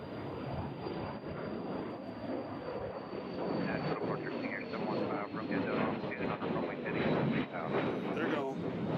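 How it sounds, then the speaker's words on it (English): An airliner takes off and climbs from Nashville International Airport, a loud, continuous broadband jet roar that swells and holds, mixed with wind buffeting on the microphone. "Here comes another plane. They're not wasting any time here. This one's going straight up."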